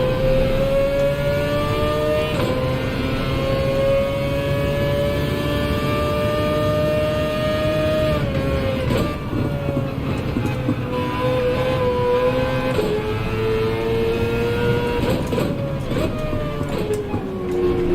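Porsche race car engine in the Gran Turismo racing game, a loud, steady high-pitched whine that rises and dips as the car shifts gears and holds speed throughout.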